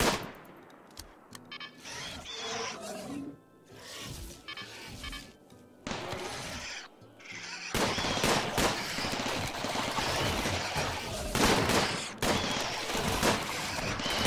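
Turret gunfire in the Rimworld 1.2 video game during a siege on a colony, sparse shots at first, then swelling into dense, steady firing that runs on at moderate loudness.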